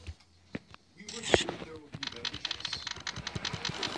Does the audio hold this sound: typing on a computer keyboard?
yes